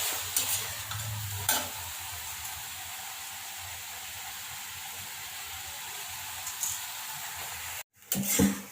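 Vegetable bhaji frying in a pan as gram flour (besan) is sprinkled in and stirred, giving a steady close sizzle with soft scraping strokes, a brief dropout near the end, then louder clattering.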